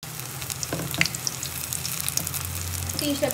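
Chilli cut bajji, also called mirapakaya bajji, frying in hot oil at home: a steady, close sizzle and bubbling with a few light clinks and faint stirring sounds throughout.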